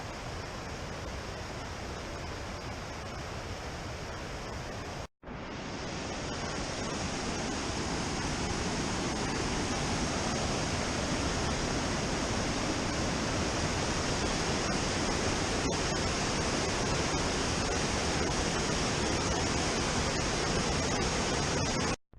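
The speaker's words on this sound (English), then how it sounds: "the river rages below." A river rushes below a mountain trail in Rocky Mountain National Park. The roar is loud, constant and broadband and fills the whole stretch, with only a brief cut near the start and no talk.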